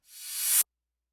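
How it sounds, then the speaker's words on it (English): Reverse effect from a K-pop production, a hiss-like noise swelling steadily louder over about half a second before cutting off abruptly into silence. "this one is a reverse effects that goes like this"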